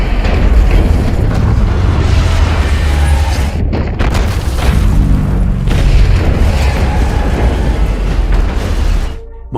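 Missile strike on London in a G.I. Joe film, a loud, sustained deep explosion rumble with rolling booms and debris noise, briefly dipping and then surging before cutting off.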